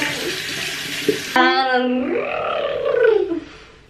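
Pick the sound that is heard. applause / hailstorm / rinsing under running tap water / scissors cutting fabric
rinsing under running tap water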